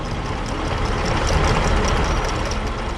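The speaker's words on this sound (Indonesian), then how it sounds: "Traktor hijau dengan alat pemecah tanah bekerja dengan gigih." A green tractor pulling a soil breaker runs steadily in an animated farm field, its engine a loud, constant rumbling drone with no pauses.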